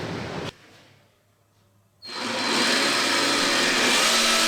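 A power tool cutting dust collection holes in a miter saw stand: a short loud burst, a quieter pause, then the tool spins up into a sustained, loud, close whine and roar that continues to the end.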